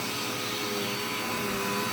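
A household vacuum cleaner with poor filtration, used for whole-house vacuuming, runs in a steady, loud, unbroken roar that holds at the same level throughout.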